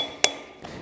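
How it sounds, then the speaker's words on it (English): A flat blade screwdriver pops a cap off a wheel hub with one sharp metallic click, followed by a faint softer knock moments later. "we're just going to pop that cap off and then pull the hub off"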